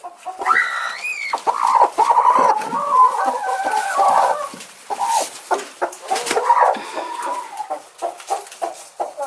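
Quail in a hen's nest box with small eggs, giving repeated clucking and chirping calls in short irregular bursts, close and fairly loud, with faint handling noise between calls.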